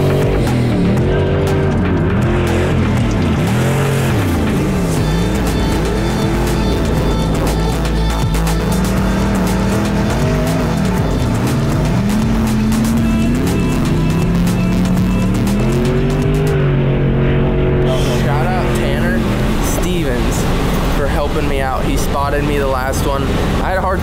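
A Pro Lite off-road race truck is driven hard: a loud, constant engine roar rises and falls through revs, with occasional tire squeal and a person talking over the noise.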